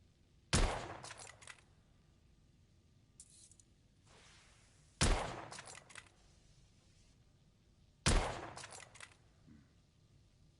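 Three loud, close gunshots in The Order: 1886, evenly spaced several seconds apart, each a sharp crack followed by a short metallic rattle and echoing tail over quiet background.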